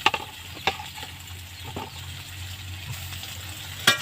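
Boiled soybeans tossed into a pan of well-fried spice paste, giving a steady low sizzle broken by a few sharp scrapes and clinks of stirring.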